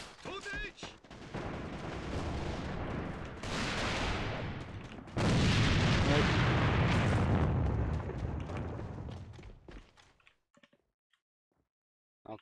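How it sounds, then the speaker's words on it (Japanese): A grenade blast in the online shooter AVA during a clan-war fox-hunting match: a loud, sustained burst of gunfire and booming detonation with a heavier surge midway, fading to near silence at the end. "手榴弾投擲"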